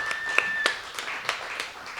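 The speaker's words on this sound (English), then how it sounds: "Let's give her a round of applause." An audience at a church talk gives a round of applause, a sparse, modest patter of scattered claps at moderate distance with no voices over it.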